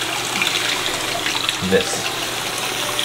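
Lukewarm water runs steadily from a tap while honey is rinsed off, a close hiss with a brief splash partway through. A person speaks a word over it.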